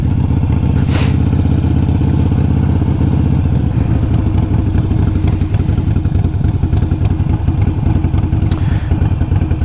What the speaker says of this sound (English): Lots of backfiring occurring.